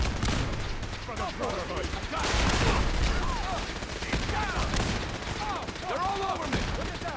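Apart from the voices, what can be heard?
gunfire in the video game Fallout 4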